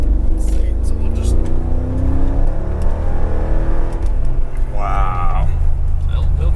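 Mercedes G Wagon AMG with a 500 hp V8 accelerating hard from a standstill to 60 mph, a loud, throaty engine rising steadily through the gears, with a brief shift near the end and voices talking over it.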